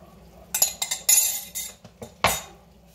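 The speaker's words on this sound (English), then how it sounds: "Just give that a good stir." A metal utensil stirs pancit liquid in a pan on a gas stove, making a quick series of close, bright clinks and scrapes against the pan with short pauses between strokes.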